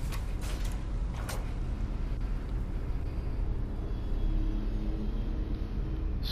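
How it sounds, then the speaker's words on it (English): In Skyrim, a pulled lever sets off a tomb door's grinding mechanism, a couple of clanks followed by a long, heavy low rumble and creaking drone inside a ghostly crypt. "Oh, just open the door."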